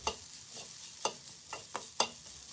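Grated coconut and turmeric roast quietly in a pan for a mackerel fish curry, a soft dry sizzle broken by regular spatula scrapes and taps, close by.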